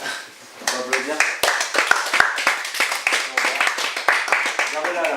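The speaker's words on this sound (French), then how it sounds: "On peut applaudir." An audience claps at a French coaching and training session, with a busy patter of hand claps under people talking.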